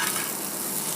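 An egg sizzles as it fries in a pan, a dense, steady crackle that holds at an even level and fills the short moment with no voices over it.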